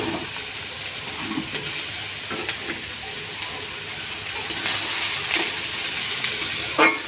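Papaya frying in hot oil with green chillies and a bay leaf, giving a steady, fairly loud hiss and crackle, with a few scrapes and knocks of stirring in the pan.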